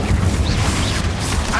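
Confringo blasting spell in Hogwarts Legacy, a short burst of booming low rumble mixed with whooshing magical swirls, loud and close for under two seconds.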